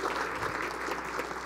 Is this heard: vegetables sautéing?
no